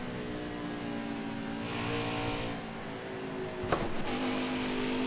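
Engines of 1998-style NASCAR stock cars in the NASCAR Heat 5 racing game at Darlington drone steadily at high revs, with pitch shifting as cars jostle for the lead and a sharp brief knock midway like a wall contact.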